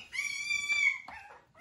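A three-week-old teacup-toy puppy with a liver tan parti coat lets out one long, high whining whimper, followed by a shorter, wavering whine, close and alone.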